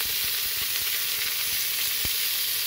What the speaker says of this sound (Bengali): আমি ধুয়ে রাখা সবজিগুলো ছেড়ে দিলাম।